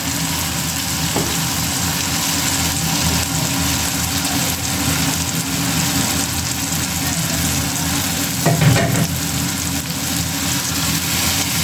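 Soaked, washed soybeans go into masala frying in a pan, giving a continuous close hiss with a low rumbling undertone. A brief louder burst near the end could be the beans dropping in.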